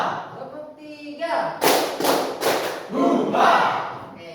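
Classroom of students doing a counted clapping game, a few separated group claps landing in rhythm after spoken counts, each sharp and loud, with the teacher's voice and students' shouts between them.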